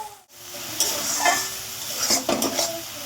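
A spoon stirring spice masala with salt, turmeric and red chili powder as it fries in a pan, steady sizzling beneath a few clinks and scrapes of the utensil against the metal.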